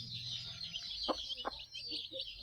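Newly hatched chicks of a country hen peep in a few quick, faint calls against a hissing, high background, with the soft murmur of the flock underneath.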